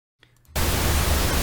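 Pink noise test signal used for ear training starts abruptly after a brief quiet moment with a faint low hum, then holds as a loud, steady broadband hiss.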